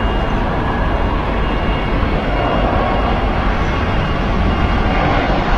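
A Qatar Airways Airbus A320 jet passes as a steady, loud, broadband engine roar that holds evenly throughout, with no gaps or talk.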